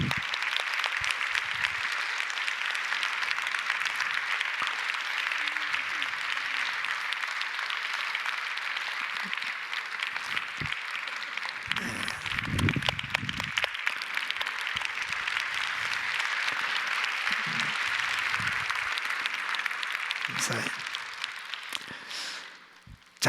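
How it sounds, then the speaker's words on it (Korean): A church congregation at a Sunday service applauds in a long, dense, steady burst of clapping that fades out near the end, with occasional low murmurs underneath. "다시 한번 박수해 주시기 바랍니다"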